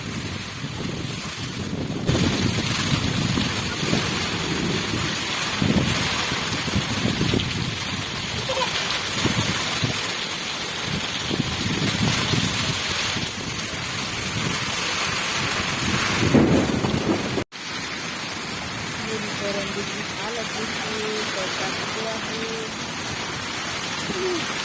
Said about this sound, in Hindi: और कुछ ही देर के बाद बहुत ज़ोर की फ्रेंड्स बारिश होने लगी है, तो आप लोग बारिश का आनंद लीजिए।